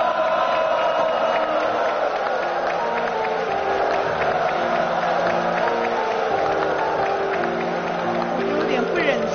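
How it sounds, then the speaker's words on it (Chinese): Studio audience applauds and cheers for contestant Hanxiang on a military talent show stage, a steady, loud wash of clapping with scattered whoops held throughout, music beneath. "再次掌声送给汉祥。"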